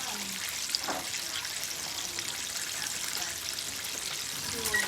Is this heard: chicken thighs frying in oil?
yes